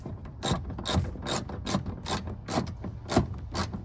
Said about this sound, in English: Then you grab your ratcheting wrench with your socket on it, your 10mm, and do the same thing, just get it tightened down